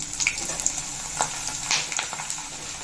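Vathal fries in hot oil in a home kitchen, a steady bright sizzle with a few sharp pops and crackles scattered through, close up and unbroken, no voices.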